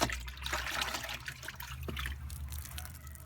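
A fire starter is swished around in water, giving a steady close sloshing and trickling wash of liquid with no talk.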